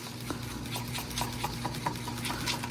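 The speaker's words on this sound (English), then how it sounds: "I want to mix it first before I add glue" A stick stirs colours together in a container before glue goes in, giving a quick, regular run of soft scraping clicks close up.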